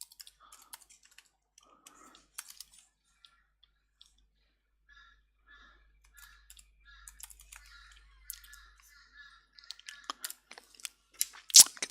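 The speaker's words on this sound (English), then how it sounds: "I'm going to type in" A computer keyboard is tapped to type a comment, quiet clicky keystrokes arriving in short irregular bursts with pauses between, growing busier and slightly louder toward the end.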